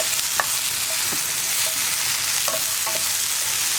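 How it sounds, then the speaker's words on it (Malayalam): Okra and tomato fry steadily in a pan, a close continuous sizzle with a few brief scraping stirs of a spoon, no voices over it. "തക്കാളിയും കൂടി ചേർത്തിട്ട് വീണ്ടും ഒരു 2 മിനിറ്റും കൂടെ ഒന്ന് കുക്ക് ചെയ്തെടുക്കുക"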